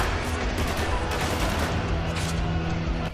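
Dense, continuous gunfire in the Spec Ops: The Line shooter during a co-op firefight, with bursts and shots overlapping into a loud, steady barrage for the whole stretch.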